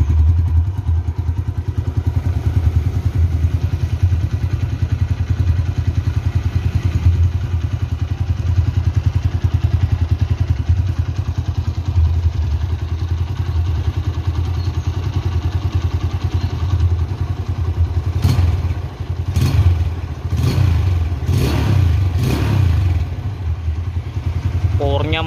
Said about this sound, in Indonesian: Lihat stasioner yang sudah nggak pakai cuk.